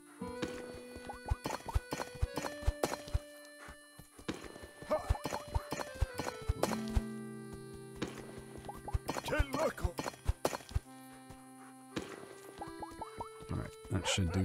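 Steady clip-clop of horse hooves in a rapid rhythm in the video game Gaucho and the Grassland, mixed with game music tones and occasional clicks, close and fairly loud throughout.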